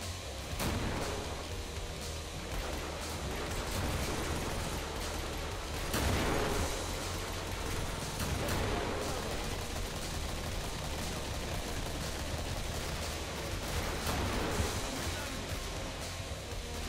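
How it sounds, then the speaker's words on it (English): Continuous gunfire and bursts of explosions from grenade launcher fire in the video game Killing Floor, dense and loud throughout with heavier blasts standing out at intervals. "What's those explosions? He has a grenade launcher attached to him."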